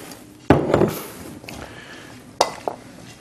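Mixing tamari into a butternut squash filling in a bowl gives a few sharp utensil knocks against the dish, one loud clack early, another later, with softer scraping between.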